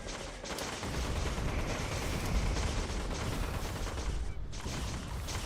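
In the video game Fallout 76, a grenade blast sets off a loud, dense, sustained rumble of explosive game noise with crackling debris that fills the whole stretch with no pause.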